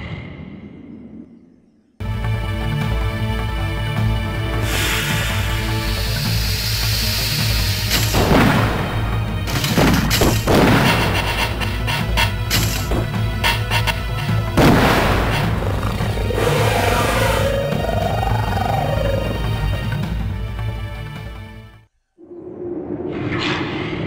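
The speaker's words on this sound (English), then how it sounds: "Leroy is still packing his bizarre grenade flamethrower launcher weapon" Heavy booms and whooshing blasts from a grenade flamethrower launcher weapon in the video game Hellnight, a loud sustained roar of repeated explosions over game music.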